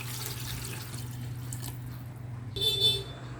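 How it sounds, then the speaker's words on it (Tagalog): Water is poured into a pot of goat meat for sinampalukang kambing, a light steady trickle that swells into a louder splashing pour near the end. "Tsaka ko ito nilagyan ng tubig."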